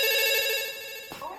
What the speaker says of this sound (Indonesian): Kita terima telepon dulu